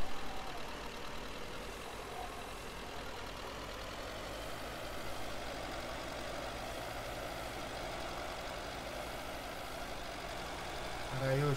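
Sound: tractor engines in Farming Simulator 13 video game

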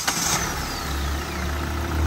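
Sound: used vehicle diesel engine running quietly

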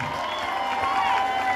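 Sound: concert crowd applauding the young keyboard player

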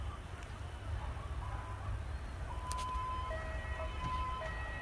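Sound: ambulance sirens at plane crash rescue

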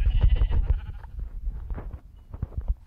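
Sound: sheep bleating in a video game

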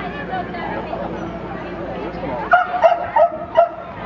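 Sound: dog barking at dock jumping event

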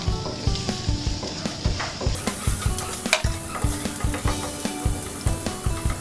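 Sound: sautéing onions in a pan for laing

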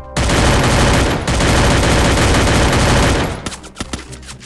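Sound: gunfire in the video game Free Fire

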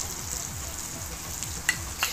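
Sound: garlic and ginger paste mixed into frying mutton gravy

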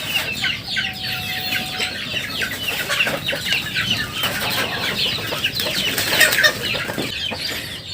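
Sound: free-range chickens clucking

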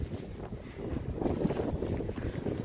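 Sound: wind at a Vestas V90 wind turbine

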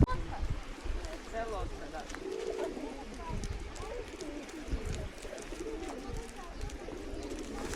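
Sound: pigeons cooing

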